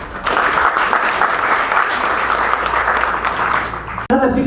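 Conference audience at a professional development session claps in a dense, even burst lasting about four seconds, ending abruptly as a voice begins to speak.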